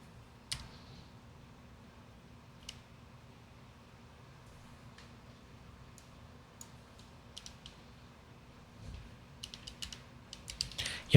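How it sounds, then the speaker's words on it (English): Sparse, faint clicks of a computer keyboard being typed on at a desk, isolated taps scattered through a steady low hum before a quicker burst of keystrokes near the end. "Yeah, so when we start typing"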